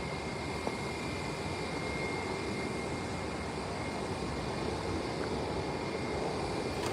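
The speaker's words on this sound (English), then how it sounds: "Another private jet landing on 10." A private jet landing at SJU airport in San Juan produces a steady, broad engine roar with a faint high whine, holding at constant loudness throughout.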